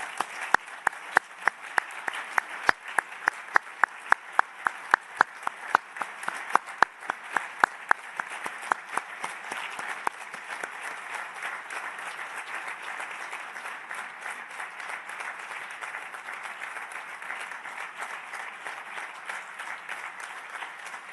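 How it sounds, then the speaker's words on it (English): An audience at a UN Refugee Agency meeting in Geneva applauds Filippo Grandi, a few sharp individual claps at first swelling into sustained, even applause from a large hall. "Vi chiedo di tutti insieme fare un grande applauso, un tonnerre d'applaudissements per Filippo Grandi."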